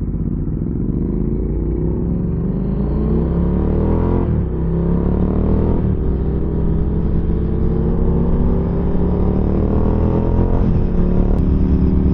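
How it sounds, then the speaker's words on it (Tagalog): A scrambler motorcycle fitted with an Akrapovic exhaust runs loud and close on the Las Vegas Strip at night, its engine droning and revving steadily with rising harmonics. There is no talking. "Ibang iba yung tunog ng scrambler pagka nakatambucho."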